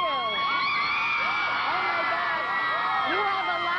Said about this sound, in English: You have a lot of screaming teenage girls as fans.